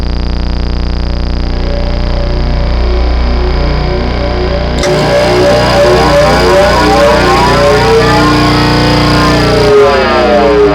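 A Behringer TD-3-MO synth runs through reverb and then distortion pedals, producing a loud, continuous acid sequence. Around the midpoint it turns harsher and more saturated, with swirling, amplified reverb movement.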